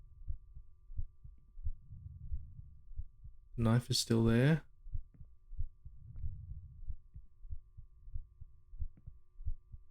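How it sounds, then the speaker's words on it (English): A slow, steady thumping heartbeat plays in a PSX-style horror game, low and muffled, repeating evenly throughout with a short spoken line over it partway through. "I can hear my heartbeat."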